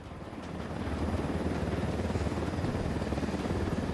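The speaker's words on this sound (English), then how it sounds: "Let's take these choppers out." Helicopters in the Ghost Recon video game make a steady, rapid rotor chop with a droning engine. The sound swells in the first second and then holds loud and close with no voices.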